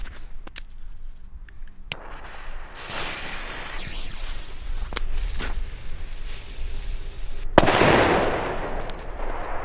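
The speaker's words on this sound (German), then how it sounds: "Immer wieder krass, diese Böller." Firecrackers from a Funke Super 2 New Year's fireworks set going off outdoors, with several sharp isolated cracks followed by a louder, denser crackling burst near the end.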